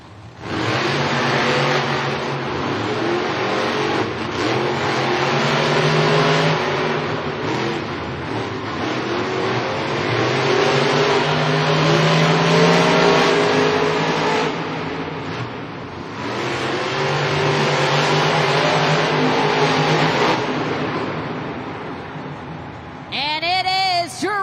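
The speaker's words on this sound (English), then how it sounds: "Drivers need to fire their engines, head to the starting line." Monster truck engines roar and rev at the starting line of a stadium Monster Jam event in Indianapolis, loud and sustained with surging pitch, under a continuous announcer's voice and crowd ambience.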